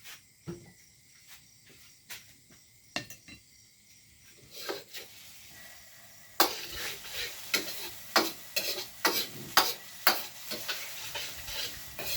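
A spatula stirs offal stir-fried with sweet peppers in a pan, giving repeated sharp scraping clacks over a soft sizzle that grows louder and busier partway through.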